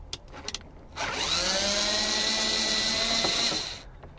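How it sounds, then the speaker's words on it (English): A power screwdriver spins out a Phillips head screw during a subwoofer install, a near, steady whirring burst of about three seconds after a few small clicks and handling knocks. "Remove the two Phillips head screws."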